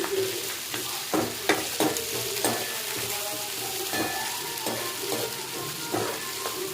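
Curry leaves fry in hot oil for semiya upma, giving a constant close sizzle with regular scraping strokes of a stirring spoon throughout.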